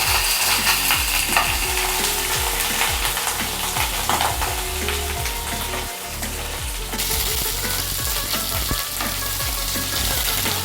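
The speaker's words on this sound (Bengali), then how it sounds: "পটল আর আলুগুলো এখন তেলের মধ্যে ছেড়ে দিচ্ছি, তারপর একটু আমি নাড়াচাড়া করে ফ্রাই করে নেব।" Pointed gourd and potato pieces sizzle loudly in hot oil while a spatula stirs them in repeated scraping strokes, close and continuous, with no talking.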